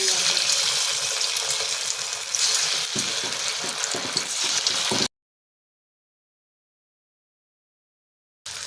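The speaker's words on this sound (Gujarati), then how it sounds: "તો હવે આપણે પૌવાના ભજીયાને તળી લઈશું।" Poha bhajiya fritters deep-frying in hot oil, a loud, steady crackling sizzle with stirring scrapes, cutting off abruptly into silence before a brief return at the end.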